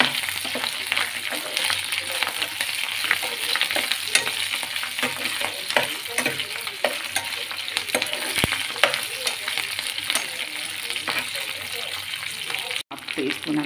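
Mustard seeds, cumin, dried red chillies and curry leaves tempering in hot oil: a continuous close sizzle with crackles and scraping stirring strokes, a sharp click near the end.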